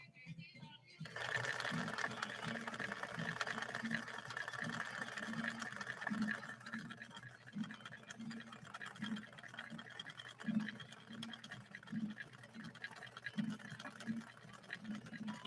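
A 1961 Viki sewing machine stitching a line with Sulky 40 wt embroidery thread, a continuous close motor whir with a pulsing rhythmic thump from the needle pattern throughout.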